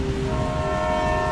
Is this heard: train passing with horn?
yes